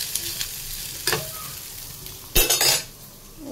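Chicken frying in a pan gets stirred, with a steady low sizzle under three distinct bursts of spatula scraping and metal clatter against the pan, the last the loudest, close by and without talking.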